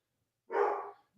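A dog lets out a single short, muffled bark indoors at moderate distance, with silence before and after.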